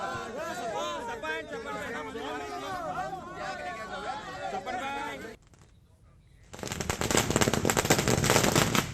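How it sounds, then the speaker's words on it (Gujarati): Congress party workers celebrate with firecrackers: a crowd chatters noisily at first, then after a brief lull a loud, dense string of rapid crackling bursts erupts and keeps going. "કોંગ્રેસ કાર્યકર્તાઓએ ફટાકડા ફોડીને ઉજવણી કરી"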